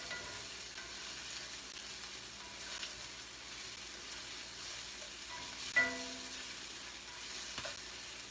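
Onions fry in a pan for tacos, a steady soft sizzle running throughout with a small clink or stir partway through.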